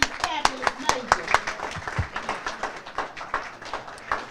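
An audience at a spring graduate stole ceremony claps for the honorees: sharp, uneven hand claps in a lively burst lasting a few seconds, with a few voices calling out among them.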